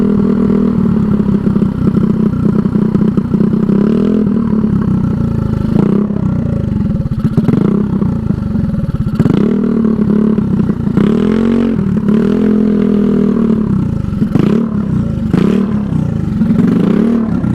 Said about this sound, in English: my engine keeps dying because my idle's off